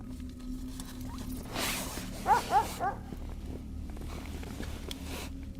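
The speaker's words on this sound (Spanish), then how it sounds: "Poco después se escucharon más ladridos de Kuchum fuera de la tienda" A dog barks three times in quick succession outside a tent, moderately distant, against a quiet outdoor background.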